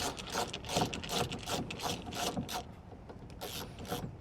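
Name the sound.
unscrewing a screw on a car door lock assembly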